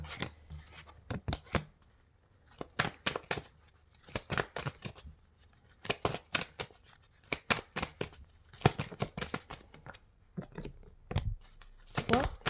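Tarot cards being shuffled and drawn for a reading, with crisp riffling and snapping bursts that come in irregular clusters, close and fairly loud, separated by brief quiet gaps.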